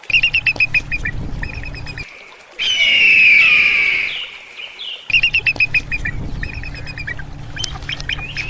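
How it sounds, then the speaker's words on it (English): An eagle gives rapid, high, chattering chirps, broken midway by one long, loud, piercing scream, and then the quick chirping series returns. "Eagle."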